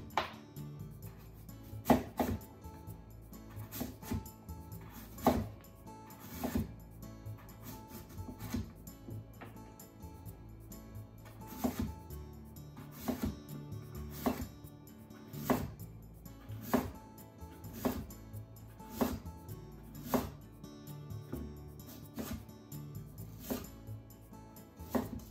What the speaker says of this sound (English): Make thin slices.